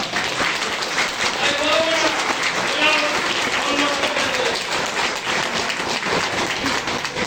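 Audience clapping during a health talk, a continuous crowd clap under background voices and murmur, fairly loud and steady.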